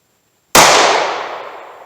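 A single sharp, very loud gunshot from a snub nose .38 Special revolver firing Super X ammunition cracks after a brief silence, then rings out in a long fading decay.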